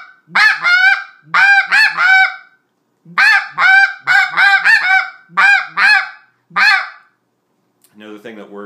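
A Basin WhiteDevil snow goose call imitating the barks of snow geese: loud, close, rapid clusters of sharp honking yelps that come in bursts of two to four, with brief pauses and nothing else behind them.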